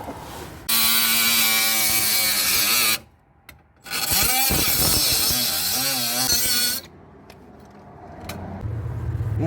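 A power tool whines loudly and steadily as it cuts a sheet metal panel for a 1977 Cougar quarter panel repair, running in two long passes separated by a brief pause, then trailing off into quieter shop noise.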